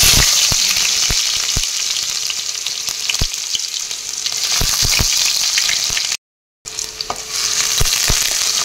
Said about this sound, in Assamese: কেৰাহী গৰম হ'বলৈ দিছো তেলখিনিও গৰম হৈছে ইয়াতে এতিয়া মই পিয়াজখিনি